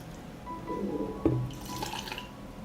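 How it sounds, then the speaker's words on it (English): Hot dressing poured into a glass jar of watermelon, a close liquid trickle and splash with a few drips and a small clink, heard without talk. "I pour the dressing into a jar."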